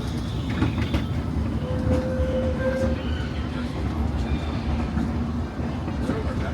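A Disneyland Railroad train rolls along its rails near New Orleans Square station, a steady loud rumble with faint clatter throughout and a brief squeal of wheels or brakes.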